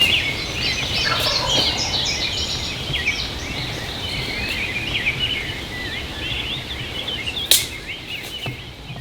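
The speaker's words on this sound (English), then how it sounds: "It's early, but the birds are already gobbling." Wild turkeys gobbling at dawn in a Michigan field, several overlapping gobbles carrying from a distance over a dense chorus of songbirds, with one sharper close gobble near the end.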